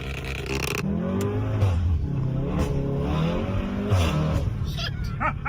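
A Hyundai i30N engine revs and pulls hard up through the gears, a loud throaty drone rising and dropping in pitch with brief shift pauses.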